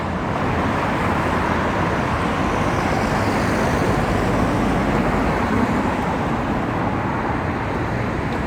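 Busy road traffic heard while walking, with many cars passing in a dense, continuous roar that swells and fades slightly, loud and close, with no talk over it.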